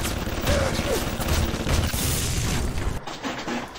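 Automated turret fire in the video game Bioshock: loud, rapid bursts of shots and booms hammer on for about three seconds, then cut off abruptly.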